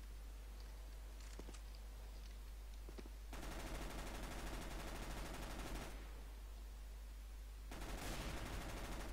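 Rapid automatic gunfire from a CS:GO match rattles in two long sustained bursts separated by a quieter gap, loud and continuous with no talk.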